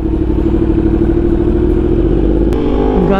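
Yamaha R1 sport motorcycle under way, its engine droning loud and steady with a brief sharp clatter and a rise in pitch near the end, with no talk.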